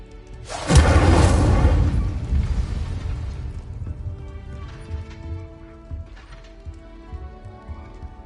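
The Incendio fire spell bursts out in Hogwarts Legacy, a loud whooshing blast that roars for about a second and decays into crackling, rumbling flames over faint tonal music.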